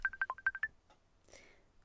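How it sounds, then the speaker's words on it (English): A Skype-like call tone sounds as a quick run of about seven clear electronic beeps, followed by a faint rising chime, quiet and alone. "That sounds like a Skype kind of sound."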